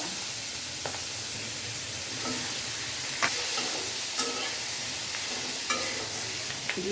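Hilsa fish head, rubbed with turmeric and salt, sizzling and frying steadily in hot oil in a pan, with a continuous hiss and occasional crackles and stirring clinks close by.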